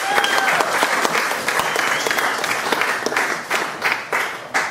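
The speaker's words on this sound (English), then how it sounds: "I think you need to do a little bit more." Steady applause from an audience at a comedy show, dense clapping throughout with a few louder bursts near the end, close and full, with little talk over it.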